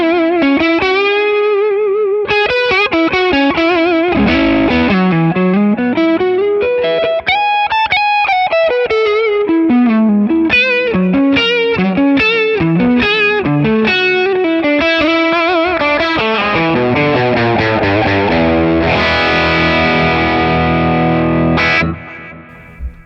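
Electric guitar played through an overdrive pedal captured on ToneX, a modern Klon- or KOT-style drive with added delay, giving a warm, dark lead tone; a continuous melodic lead line with sustained distorted notes and bends, loud and alone.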